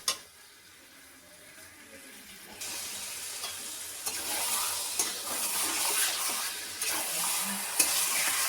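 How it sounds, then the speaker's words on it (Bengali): Skin-on chicken frying in its own released fat with mustard-oil sizzle, quiet at first and then rising to a loud, close crackle under repeated scraping stirs of a spatula against the pan bottom over high gas. "এবারে গ্যাস বাড়িয়ে দিয়ে ভালো করে এটাকে কষাতে হবে যাতে নিচে ধরে না যায়।"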